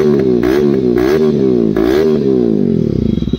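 A KTM RC 200 motorcycle with a loud exhaust and the dB killer removed, revved hard up close: the engine note surges in repeated blips, then settles toward a throbbing idle.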